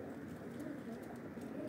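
Pigeons kept in a loft coo in a low, steady murmur, soft and continuous with a faint wash of background noise.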